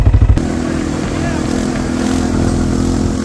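A quad bike on a desert ride in Jaisalmer rumbles past with a steady, loud engine drone that swells through the middle and fades slightly at the end, preceded by a few quick thumping bursts.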